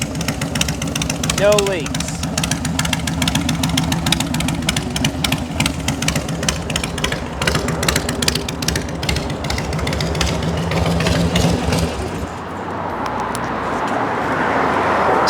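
A chopper-style motorcycle engine idles with a steady, loud, lumpy mechanical throb, heard close, under someone talking, before it fades slightly near the end.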